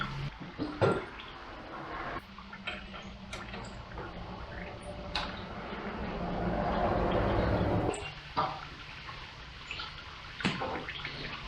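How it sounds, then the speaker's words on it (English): Coolant from an old 6.5 Detroit Diesel Suburban splashing and trickling steadily onto the floor, swelling for a few seconds, with occasional knocks and clinks nearby and no one speaking. "I've got the coolant draining and making a sufficient mess on the floor"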